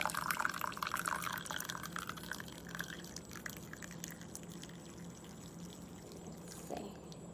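Hot coffee streams from a Bodum pour-over maker into a cup, a splashing pour that is loudest at first, then settles into a quieter trickle and ends with a few drips.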